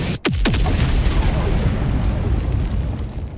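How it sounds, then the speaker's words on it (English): A huge nuke blast in Helldivers 2: a sharp initial crack followed by a deep, sustained rumbling roar that slowly fades, loud and close with no talking. "My favorite one, launching a nuke"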